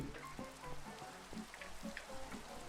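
Steady rain in Minecraft patters on a surface with scattered droplet taps, soft and continuous, no voices.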